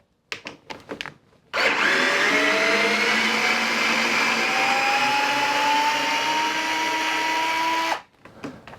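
A Fanttik S1 Apex folding cordless screwdriver whirs at its maximum speed setting, a steady high-pitched motor drone lasting about six seconds, preceded by a few clicks and handling taps, with no talk over it.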